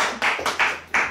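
Three sharp bursts of hand clapping from a wedding gathering praising the Lord, spaced evenly and close up, with no talk over them.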